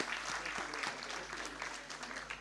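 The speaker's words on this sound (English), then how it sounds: "please everybody, a big round of applause for them." An audience applauds warmly at a book launch event, a steady wash of many hands clapping in a hall at moderate, even volume throughout.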